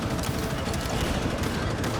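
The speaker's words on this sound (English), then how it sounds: "we're back to shooting at random things" Dense, steady volleys of gunfire from the shooter game Rivals, a continuous rattle of rapid shots at constant loudness with no voices.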